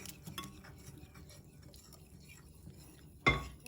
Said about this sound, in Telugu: మొత్తం కలిసేలా ఒకసారి మిక్స్ చేసుకోండి.